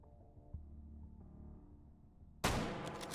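A single sharp gunshot cracks out loud and close near the end of a gunfight in the VR shooter Hot Dogs, Horseshoes & Hand Grenades, bursting over a low droning background and trailing off into a noisy decay.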